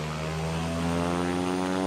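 Pilatus PC-12 turboprop engine in Flight Simulator X, with a steady, droning propeller hum and strong harmonic tones, throttling up at an airport in Shimla, India.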